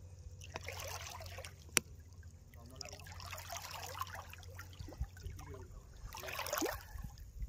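Faint water sloshing and splashing as someone wades through a river near a temple, with soft irregular trickles and swishes against a quiet background.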